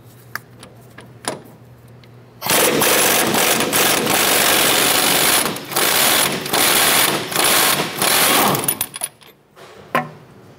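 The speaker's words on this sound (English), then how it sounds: "I'm gonna use a 14 millimeter socket to go ahead and remove our upper clevis fork bolt here." A socket ratchet with a 14 mm socket loosening the upper clevis fork bolt on a Honda Accord clicks rapidly in several bursts, loud and close, with short pauses between runs of cranking and a few stray clicks before and after.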